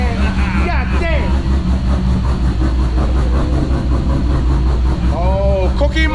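Car engine fitted with a custom grind Hurricane cam, idling with a steady, loud, lumpy rumble throughout while men chat and react over it.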